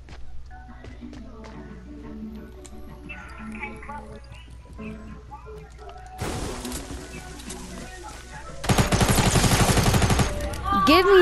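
SMG fire in the video game Fortnite: two sustained bursts of rapid automatic gunfire late in the clip, preceded by quieter game sounds and music, with a person talking over parts of it.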